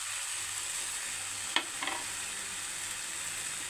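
Prawn masala sautéing in a pan keeps up a constant bright sizzle, with a couple of brief scraping stirs of a spoon partway through.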